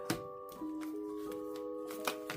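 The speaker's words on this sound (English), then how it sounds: "we're going to go ahead and shuffle up these cards" Tarot cards are shuffled in a few quick riffling bursts over a steady tonal hum in the background.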